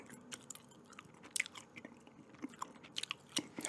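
Gum being chewed close to a microphone for ASMR, with soft wet clicks and crunchy bites scattered irregularly over a quiet background and no talking.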